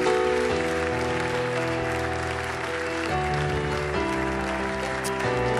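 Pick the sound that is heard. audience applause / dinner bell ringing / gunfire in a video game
audience applause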